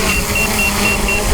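An Autel EVO drone spins up its propellers on auto launch, giving a loud, close, steady whirring drone. A high electronic beep repeats at an even rhythm over it.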